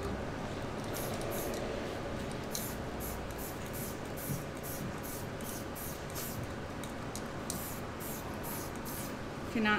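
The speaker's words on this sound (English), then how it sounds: "That was spray paint." A spray paint can hisses steadily and faintly throughout while an ocean pattern is painted in a pool, with soft rhythmic pulses in the spray.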